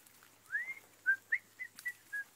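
A whistle imitates a bird calling from a tree in a told folk tale about a hunter in a forest: a rising glide followed by five short chirping notes, clear and close, with no other sound.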